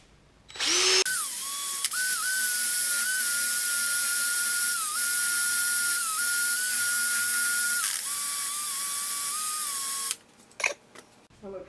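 A power sander works 80 grit sandpaper over a cottonwood platter to flatten it, a steady high whine running loud and continuous for about nine seconds with brief dips, then stopping, followed by a few clicks.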